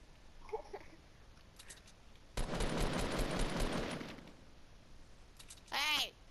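Fortnite gunfire: a dense burst of rapid shots lasting under two seconds, with scattered faint clicks and a short whooshing effect afterward.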